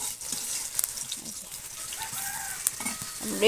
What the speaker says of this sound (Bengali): ফুট করে ভাজা হয়ে যাচ্ছে